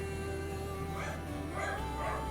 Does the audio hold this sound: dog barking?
yes